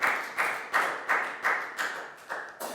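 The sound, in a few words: class applauding for a student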